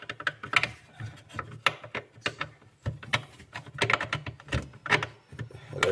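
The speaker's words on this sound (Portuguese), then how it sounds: "vou usar uma chave Torque 20" Close clicking and ratcheting of a Torx T20 driver working a long, stiff screw inside a Continental refrigerator, a busy run of small metallic ticks and scrapes with no voice.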